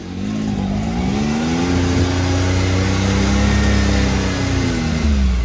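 A 2022 Can-Am Maverick X3 XRS engine drones steadily from up close while driving, a loud continuous mid-pitched hum with slowly shifting tone as it pulls through the gears.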